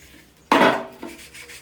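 A plastic water bottle being washed and rinsed at home, with a sudden splash of running water followed by a softer second splash, close and fairly quiet with no talking.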